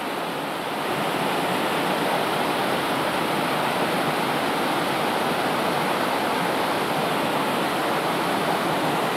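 Lost Creek's cascades rush toward the waterfall in a dense, steady roar of flowing water, loud and close. It holds constant throughout with no voices.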